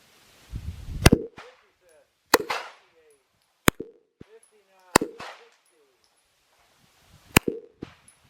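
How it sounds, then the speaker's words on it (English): Browning Hi-Power pistol firing five sharp, loud shots spaced irregularly over several seconds, each followed by a short ringing echo and faint clinks, close up outdoors. "We'll shoot this out and then we'll reload real quick."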